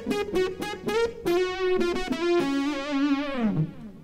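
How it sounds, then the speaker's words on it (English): Electric guitar run through a Boss GT-100 wave synth patch, a short run of pulsing, synthy notes with a rising, sweeping filter, loud and close for about four seconds with no talking. "The GT-100 also has a really cool wave synth effect"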